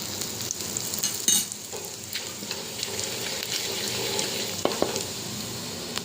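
Cumin seeds with a dried red chilli and bay leaf spluttering in hot mustard oil in a wok, a steady close sizzle with a few sharp pops and light stirring, no voices.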